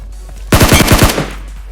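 Automatic gunfire in the mobile shooter game BGMI, heard as one loud, close, rapid burst of about six shots lasting half a second, then a short fading tail.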